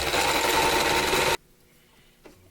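Sewing machine running a straight stitch on small doll pants, a loud, steady close-up motor whir with rapid needle chatter that stops abruptly partway through, leaving near silence and a faint click.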